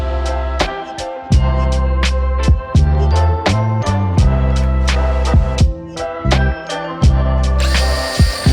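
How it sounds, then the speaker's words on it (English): A power drill whirs continuously, its motor pitch shifting as it bites into wood while building a spice box cabinet, with sharp clicks and bursts of grinding along the way. "then I can plunge through, and it gives the drill bit something to rest on."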